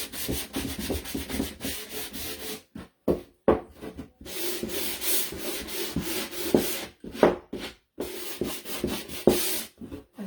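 Hand sanding of wood with sanding blocks for a Christmas sign, steady close rubbing strokes in bursts separated by brief pauses, with no talk.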